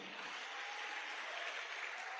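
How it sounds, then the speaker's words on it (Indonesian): An audience at a business seminar applauds for One Vision with a steady, faint, distant wash of clapping that holds evenly throughout. "Tepuk tangan buat One Vision ya"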